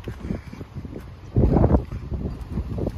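Strong typhoon wind in Yatsushiro, Kumamoto, gusting and buffeting the microphone in rough bursts, loudest in a heavy blast midway, with no talk.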